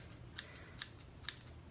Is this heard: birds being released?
no